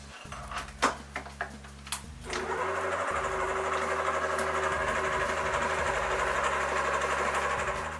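Electric hand mixer beating butter and sugar together for cookie dough, a steady close motor whir that starts after a few knocks and clatters and then runs continuously.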